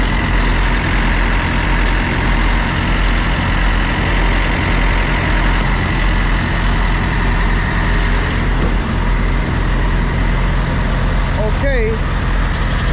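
A reefer container's refrigeration unit engine runs with a steady, heavy low rumble close by, while people talk over it.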